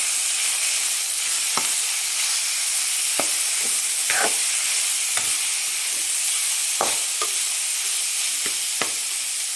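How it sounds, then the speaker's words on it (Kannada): Grated potato and chopped carrot fry with onions in a pan, a steady close sizzle punctuated by about eight sharp spatula scrapes and taps spaced irregularly; no voices. "ಫ್ರೈ ಮಾಡ್ಕೊಳ್ತೀನಿ"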